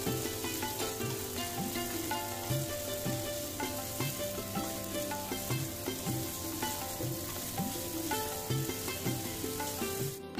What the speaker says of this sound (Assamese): এতিয়া এইখিনি লৰাই লৰাই ল' ফ্লেমত ভাজি থাকিম